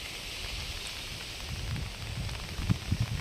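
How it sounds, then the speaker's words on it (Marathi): Light rain falls over village countryside, a soft, steady hiss with a few brief low thumps near the end, and no one speaking. "पण पाऊस मात्र चालू आहे थोडं थोडं"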